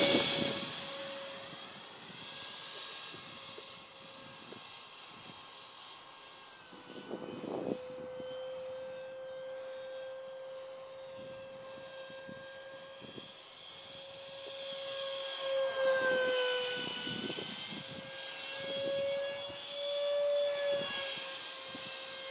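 A Eurofighter electric ducted fan model jet flies overhead with a steady high-pitched whine that shifts in pitch as it passes and maneuvers, moderately distant, with occasional wind gusts and no talking.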